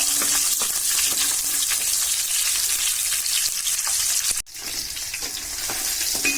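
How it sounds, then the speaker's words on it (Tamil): Onions, garlic and green chillies sauté in hot oil for a radish sambar, giving a loud, steady, close sizzle that runs continuously with a brief dip near the end. "வெங்காயம், பச்சை மிளகாய் இது போட்டு வதக்கணும்"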